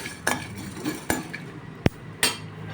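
Coriander seeds tipped into a pan for roasting give a few separate clinks and rattling clatters, close and fairly quiet, with faint sizzle between them.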